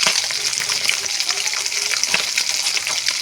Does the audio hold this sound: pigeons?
no